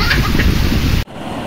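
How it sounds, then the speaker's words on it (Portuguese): Strong wind gusts across Fazenda Santa Cruz in rural Rio Grande do Norte during a heavy rainstorm, a loud, rushing roar buffeting the microphone that cuts off abruptly after about a second. "Arrocha, pai, olha o vento,"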